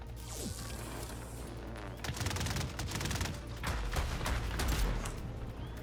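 Mounted weapons on a player-built tank in Trailmakers open fire after a short quiet stretch, releasing rapid, tightly spaced shots that build into a sustained, loud volley.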